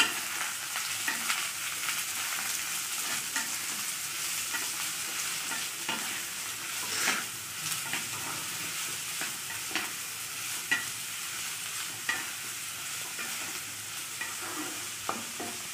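Bottle gourd and potato with poppy seed being stirred in a pan, a continuous close frying hiss with scraping strokes throughout, no talk.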